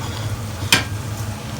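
Oil frying in a pan during home cooking, a soft steady sizzle with one brief sharp crackle or clatter partway through.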